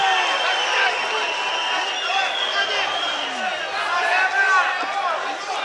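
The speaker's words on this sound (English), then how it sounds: "Listen to the crowd." Crowd noise roars steadily at a live ACB 49 mixed martial arts event in Rostov, loud and sustained with rising shouts and whistles throughout, with a commentator talking over it.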